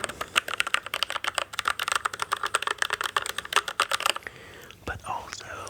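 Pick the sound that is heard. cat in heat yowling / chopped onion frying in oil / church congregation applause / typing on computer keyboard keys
typing on computer keyboard keys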